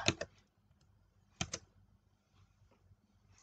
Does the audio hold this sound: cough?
no